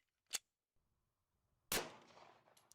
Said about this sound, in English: Next up, 45 ACP.